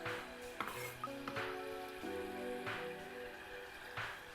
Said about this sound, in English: Once the red onions have been frying away in the butter for just a couple of minutes